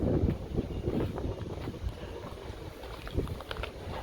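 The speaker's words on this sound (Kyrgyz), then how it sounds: "Аба ырайы да сууктап, шамал болуп, мындай бороон сыяктуу болуп атат." Cold wind in an early snowstorm at an outdoor car market in Osh, gusting as a low, buffeting roar against the microphone that swells and eases in uneven waves.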